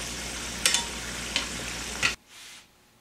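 A samosa fries in hot oil with a steady sizzle and a few sharp crackles, then the sizzle drops away abruptly to near silence.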